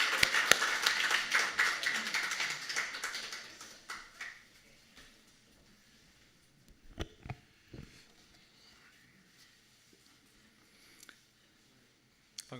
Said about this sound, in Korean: 우리 큰 박수로 우리 격려 환영하겠습니다